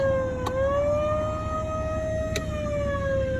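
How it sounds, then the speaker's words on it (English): A steady electronic siren sounded to call cattle on winter pasture wails continuously at a fairly even pitch, outdoors, with faint clicks at the start and near the end. "Just in case, I'll hit the siren a couple more times."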